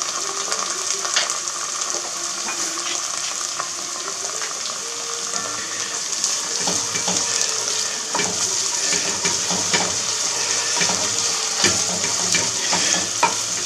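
Onions and a spoonful of tomato paste sauté in a pan for a Corsican fish stew, a loud continuous sizzle broken by frequent scraping stirs and clicks of the utensil, with no talking.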